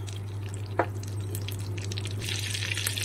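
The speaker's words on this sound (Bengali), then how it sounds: "আর রসুনগুলোকে একটু ফ্রাই করে নেব" Garlic fries in melted butter with turmeric in a pan on a gas stove, giving a soft, steady sizzle with a low hum beneath and one brief tap of a utensil early on.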